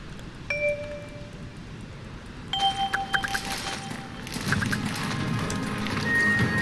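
Horse hooves in the horse-riding video game Stajnia Marzeń during a winter ride, a soft rhythmic clip-clop under game chimes and tones, rising into a fuller trotting patter toward the end.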